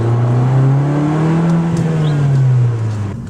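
A 2013 Fiat 500 Abarth's small engine revs steadily nearby, a strong continuous drone that rises slightly in pitch and eases off toward the end, with no voices.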